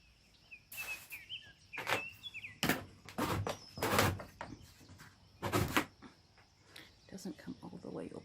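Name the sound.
garden door being opened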